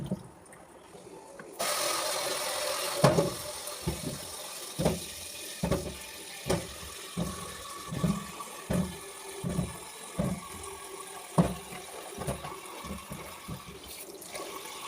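Raw banana pieces are washed in water for upperi, with a rhythmic series of sloshing, splashing surges repeating roughly every second at close range, over a faint continuous running-water hiss.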